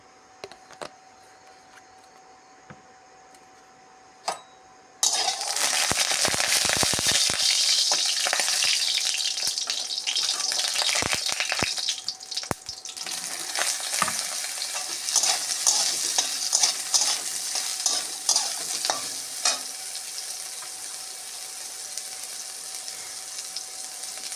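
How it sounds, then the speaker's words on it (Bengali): Soybean chunks hit a hot wok: after about five seconds of near quiet, a loud, steady oil sizzle bursts in and continues, with scattered clicks and scrapes of stirring throughout. "কড়াই গরম হয়ে গেছে, সোয়াবিনগুলো ভেজে নেব।"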